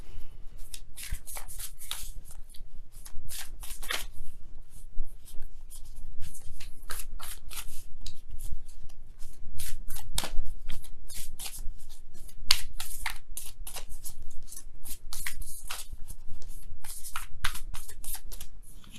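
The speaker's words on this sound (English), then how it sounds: "You guys have a lot of cards in here, but we go ahead and really shuffle." A deck of tarot cards is shuffled vigorously close by, giving rapid, continuous riffling and flicking bursts with a steady, dense rhythm and no talk.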